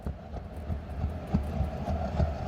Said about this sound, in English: I added horses. Very regular horse, your everyday horse. Add reverb and you play it back slower.